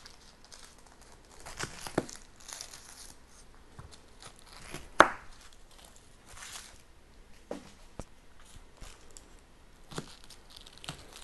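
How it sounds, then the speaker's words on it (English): An onion being cut with a French chef knife on a cutting board, heard as scattered crisp chops and knocks at irregular intervals, with papery crinkling of the peel between them. "I'm also going to use the French chef knife to chop up the onion"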